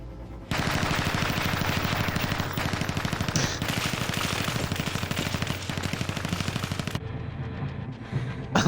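Rapid, sustained automatic gunfire from the FMV video game The Complex rattles on continuously for several seconds at close range, then cuts off abruptly.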